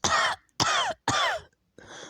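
Three harsh, close coughs in quick succession, followed by a softer raspy throat-clearing sound.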